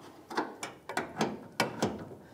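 An air gun works the fuel tank bolts on a 1992-1996 Ford F-150, firing in a series of short, sharp ratcheting bursts, about six in quick irregular succession, close and fairly crisp.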